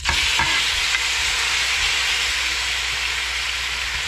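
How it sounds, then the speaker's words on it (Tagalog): Beef browns in a little oil in a pan for beef curry, a loud, close, continuous sizzle with a couple of faint clicks near the start, no voices over it. "Lalagyan lamang po natin siya ng konting mantika. At pagkatapos po, iba-brown po muna natin itong ating baka."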